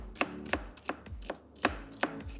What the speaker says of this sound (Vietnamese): Cần tây mình cũng sẽ cắt lát.